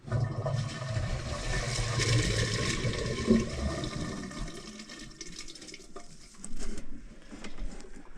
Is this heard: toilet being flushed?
yes